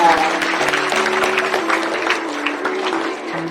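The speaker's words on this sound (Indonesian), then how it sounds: "Tepuk tangan." A short burst of clapping from a small group, steady and fairly close, with a faint tonal hum underneath.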